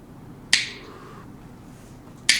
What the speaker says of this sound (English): You gotta do the finger snap.